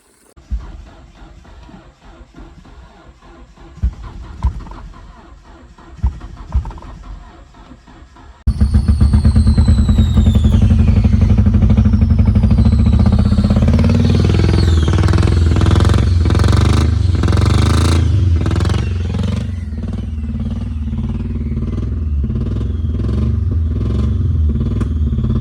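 Barn-find Nissan 240SX engine cranking with quiet clatter, then catching and roaring to life, revving loudly and unevenly and settling into a rough, sustained idle.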